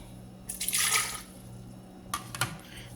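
Water is poured into a blender for grape juice in two short bursts, splashing close by, with a faint hum in between.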